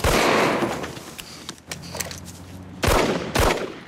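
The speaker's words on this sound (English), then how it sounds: "Shots fired, officer down." Gunfire erupts during a police traffic stop shootout, sharp shots cracking out loud and close in uneven bursts, with a brief pause before a second cluster of blasts.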